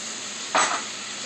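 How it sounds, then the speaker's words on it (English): Food laid onto a hot pan in the La Fontana restaurant kitchen in Charleston gives a brief, bright sizzling burst that quickly settles back into a steady background hiss. "It's going to give me a nice little sear to it as well."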